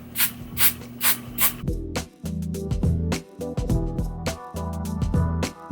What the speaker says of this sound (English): What I'm going to do is respray this lace